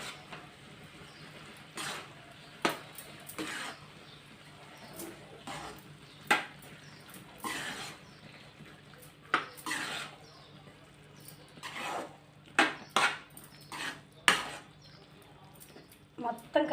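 Cooked rice for sugar pongal is stirred in a pot, with intermittent scraping and clinking of a spoon against metal at irregular intervals over a quiet background.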